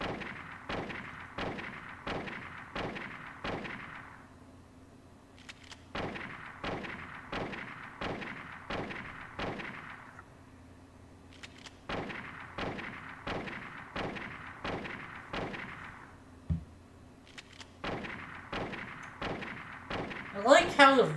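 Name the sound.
rifle gunfire against a wall in Silent Hill video game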